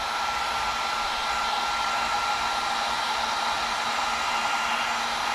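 A heat gun or hair-dryer-style blower pours hot air onto a helmet surface, a steady close whooshing hiss with a constant motor whine and no breaks.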